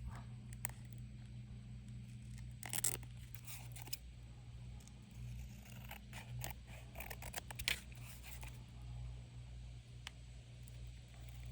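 Scissors trim paper playing cards in a few scattered bursts of snipping over steady low background hum, fairly quiet and close, with no talk.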